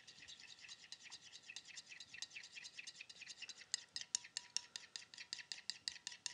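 A dressing of lemon juice, Dijon, garlic and oregano whisked briskly in a bowl, a fast regular run of close scraping ticks that grows sharper and more rhythmic toward the end, quiet and with no talk.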